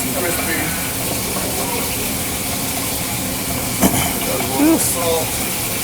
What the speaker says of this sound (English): Add a little bit of butter to it. We're going to fry our potatoes.